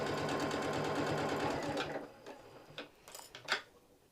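A sewing machine stitches a microwavable fabric bowl cozy, running in a fast steady whir for about two seconds before stopping, followed by a few scattered clicks and handling knocks.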